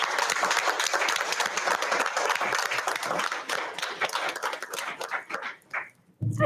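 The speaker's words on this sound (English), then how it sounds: "So if we can give them a round of applause." An audience at a school district board meeting applauds newly introduced teachers, dense sustained clapping that thins out toward the end with a brief gap.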